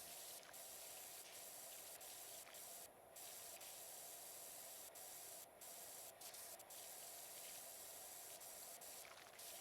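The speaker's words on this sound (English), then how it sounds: "Regular spray is not really getting it done here." In the Power Wash Simulator video game, a pressure washer sprays in a continuous loud hiss for nearly ten seconds, broken by a few brief dips, with no speech over it.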